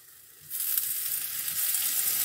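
Butter starts sizzling in a hot wok, a bright frying hiss that breaks out suddenly after a quiet moment and holds steady and fairly loud.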